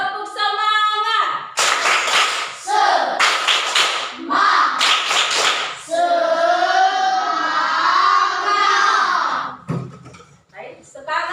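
A sixth-grade class does a rhythmic clapping cheer, with loud bursts of unison claps in patterned groups mixed with children chanting aloud. The chant carries on through a long stretch of voices before one final clap.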